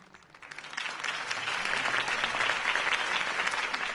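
Applause from a large crowd swells quickly from a quiet start and holds steady, a dense, continuous wash of clapping.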